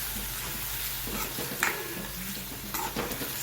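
Potatoes sizzle steadily in a frying pan for bataka poha, with a spoon scraping and tapping against the metal as they are stirred.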